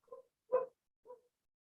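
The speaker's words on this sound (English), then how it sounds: "I can hear your dog barking." A dog barks in the background during a remote online meeting: three short, faint barks spaced about half a second apart, the middle one strongest, with no one talking over them.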